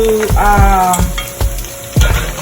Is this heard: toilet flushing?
no